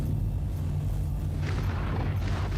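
Video game gunfire and explosions aimed at a ground target, deep rumbling booms rolling continuously with bursts of crackle building in the second half, heard from a distance.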